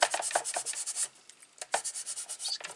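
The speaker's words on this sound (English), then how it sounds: "Just give it a little rub." Cardstock rubbed by hand while assembling a Stampin' Up greeting card, heard as a series of short, close, dry scraping strokes in quick bursts with a brief pause midway.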